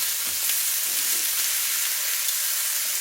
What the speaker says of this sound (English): Now I'm going to sear them on all 4 sides